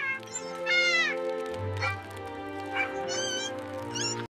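A cat meows several times in a row, with clear rising and falling harmonic cries, set over steady background music in a Tamil children's moral story about a greedy cat.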